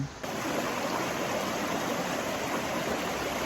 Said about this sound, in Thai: มันไม่ใช่น้ำตกเนาะ มันเป็นมีแบบลำธาร